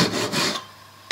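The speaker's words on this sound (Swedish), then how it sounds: "Och sen så kan du såga i spåret" A hand saw cuts a small wooden dowel held in a sawing guide, with two close, raspy back-and-forth strokes followed by a pause and the start of another stroke.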